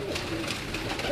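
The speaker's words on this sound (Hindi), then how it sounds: "ये तमाम कबूतर हैं आपकी स्क्रीन पर हैं" Pigeons kept by a fancier, a faint brief soft cooing over low background noise.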